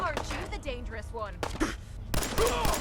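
Sharp gunshots in Fallout 4, a few separate reports in the middle and a denser cluster near the end, mixed in with someone talking.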